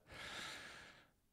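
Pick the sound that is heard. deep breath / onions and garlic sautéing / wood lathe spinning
deep breath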